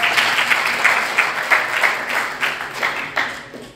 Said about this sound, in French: Est-ce qu'on peut encore acclamer les seigneurs?